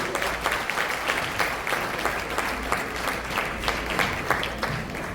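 Audience applause at the opening welcome of the Haiti Open Harry Policard Cup, a steady wash of clapping from a crowd filling the whole stretch with a few louder claps standing out, no talking over it.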